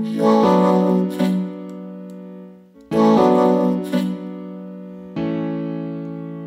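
Vocoded vocals sung over a piano in FL Studio, dense harmonic chords moving in phrases with sharp re-attacks, loud and upfront with no talking.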